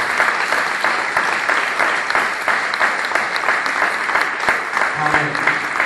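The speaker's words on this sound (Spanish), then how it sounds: "Denle un aplauso a Dios en esta mañana." A church congregation applauding during a Sunday morning service, a loud, sustained wash of clapping hands that carries evenly throughout, with a faint voice emerging near the end.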